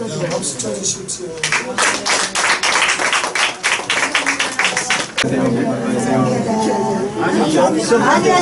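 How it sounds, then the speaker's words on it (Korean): Audience clapping hands together in unison at a Korean New Year thanksgiving gathering, loud bursts of claps mixed with chatter and people talking, then settling into a murmuring crowd near the end. "박수 쳐주십시오."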